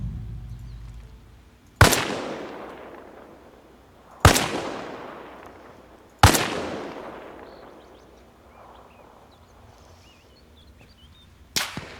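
Gunshots exchanged in a firefight in Arma Reforger: four loud, sharp cracks spaced about two seconds apart, each ringing out with a long decaying echo across open terrain.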